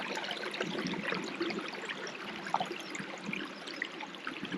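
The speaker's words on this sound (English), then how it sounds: "we have the sounds of a running and gushing water here to my right hand side" Running, gushing water flows steadily close by on one side during an outdoor walk on a rainy day, a continuous broadband rush with small splashy bursts and no talk over it.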